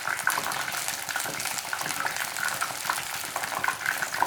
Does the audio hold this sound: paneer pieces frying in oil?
yes